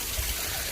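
Water pours steadily from a spout into a pavilion pond, a soft continuous splashing rush that runs alone at moderate level.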